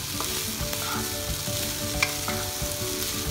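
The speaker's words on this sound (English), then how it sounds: "Now put fried paneer cubes. Fold it nicely." Fried paneer cubes folded into tomato rice in a pan, with steady soft stirring and scraping over a continuous low sizzle, close and moderately quiet.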